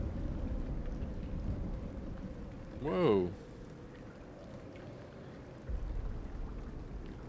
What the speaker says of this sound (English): Boy, you can sure hear that storm out there.